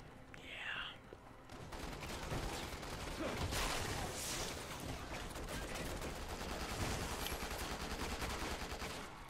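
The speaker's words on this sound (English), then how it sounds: "That dude's shooting." Rapid bursts of gunfire from the video game Resident Evil 6 crackle in dense, repeated volleys at moderate loudness, with a low whispered voice underneath.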